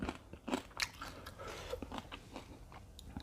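Crunchy pork cracklings with attached fat are chewed close to the mic alongside Thai papaya salad and rice noodles. There are a few quiet, sharp crunching bites followed by softer chewing, and no talk.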